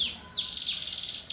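A caged yellow clustered Shirazi canary in full feather sings close by, giving a quick series of bright descending chirps that repeat in an even rhythm over low background hiss.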